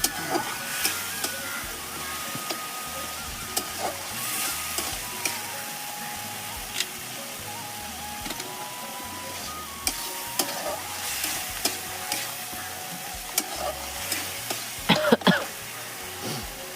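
Onion and spice masala fries and is stirred in a pan for an egg and potato curry, with a steady sizzle under repeated scraping and clinking of the spoon, plus a short cough near the end.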